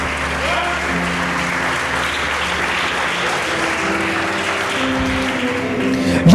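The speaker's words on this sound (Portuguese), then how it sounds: "Pode aplaudir, irmãos." A church congregation applauds during a sermon, a steady dense wash of clapping that holds at a constant loud level throughout, with a faint background hum and no clear talk on top.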